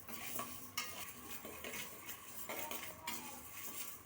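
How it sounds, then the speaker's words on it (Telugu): Moong dal dry-roasting in a kadai over low heat is stirred with a spoon, giving a steady scraping and clinking against the metal pan with faint sizzling beneath, close and without talk. "మెల్లిగా స్లోగా కలుపుకుంటూ పెసరపప్పుని వేగనివ్వాలి."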